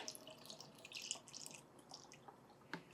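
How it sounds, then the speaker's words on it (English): Faint, uneven trickling and dripping as water is poured into the funnel and inner tube of a snow gauge, with soft splashes coming in small bursts and no talking. "I'm going to go ahead and pour into the funnel and into the inner tube"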